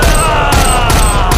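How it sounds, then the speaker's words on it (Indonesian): Gunfire in a hitman action film, bursts of several loud booming shots with sharp onsets and short pauses between them, dense and heavy. "Risi berhasil memberikan beberapa tembakan yang mengenai Katir dan membuat Katir tewas bersamanya"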